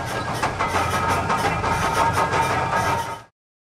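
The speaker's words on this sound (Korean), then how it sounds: "스위치가 당겨지는 순간 엔진이 한번 헛돌았습니다." An engine cranks and fails to catch, giving a dense, rhythmic churning that pulses steadily for about three seconds before cutting off abruptly into silence.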